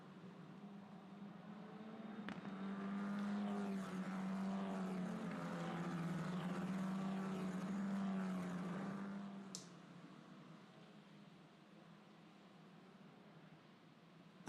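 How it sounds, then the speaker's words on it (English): Italian F4 single-seater race cars roll out on a formation lap at the Mugello circuit in Tuscany, a steady droning engine hum swelling and holding, then easing off as the field moves away. "as the field set off on their formation lap in beautiful Tuscan sunshine"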